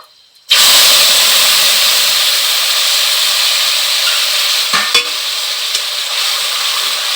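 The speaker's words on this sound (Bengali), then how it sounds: "আমি তেলের মধ্যে এখন গোটা গরম মশলা দিয়ে দিচ্ছি ও গোটা জিরে দিয়ে দেব।" Whole garam masala and cumin seeds sizzle loudly in hot oil, a sudden burst of steady, dense frying hiss that holds for several seconds, with a couple of brief stirring clatters partway through.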